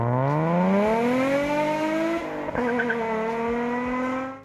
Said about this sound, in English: the joy of revving it to the red line and hearing that little V6 scream